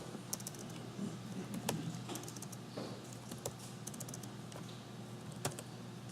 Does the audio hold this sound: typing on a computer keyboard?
yes